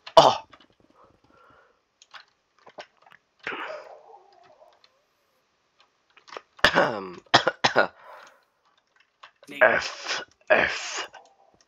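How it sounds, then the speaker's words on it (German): Several bursts of coughing and throat clearing, scattered across quiet gaps, some harsh and close, mixed with brief vocal sounds in a gaming setting. "Kann ich echt gut husten?"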